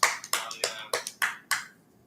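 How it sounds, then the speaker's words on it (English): A handful of people clap in a sports talk-show studio, six or seven separate sharp claps spaced unevenly, close and crisp, with no sustained applause. "Clap it up. Clap it up."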